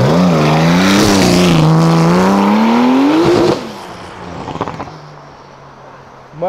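A Porsche engine roars up through the revs, loud and close for about three seconds, then cuts off abruptly, leaving quieter background noise and a few faint knocks.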